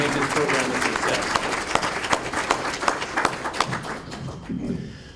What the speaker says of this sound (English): let's just give DBED and all the partners a round of applause for their hard work